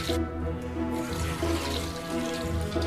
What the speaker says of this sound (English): Wash the eggs thoroughly.